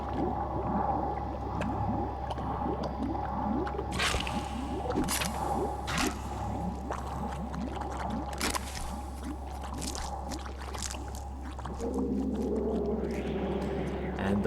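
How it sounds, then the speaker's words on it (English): The bubbling remains of Metroid Prime in the video game Metroid Prime gurgle and churn with a low steady hum, wet pops and sharp bursts scattered throughout, ending in a thicker swell. "The bubbling remains of Metroid Prime."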